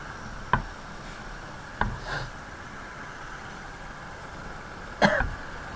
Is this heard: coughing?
yes